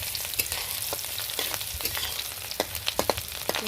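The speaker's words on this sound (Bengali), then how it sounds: "সরিষার তেল দিয়ে ভেজে নিচ্ছি।" Shrimp fry in mustard oil in a pan, giving a steady close sizzle with crackles and sharp pops scattered throughout as the food is stirred, with no voices.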